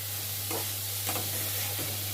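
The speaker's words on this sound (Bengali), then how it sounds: "দেখো হালকা ভেজে নিলাম পনিরের ফুলকপি" Marinated paneer and cauliflower fry lightly in a pan, giving a steady soft sizzle with a few brief stirring scrapes, close and fairly quiet with no talk.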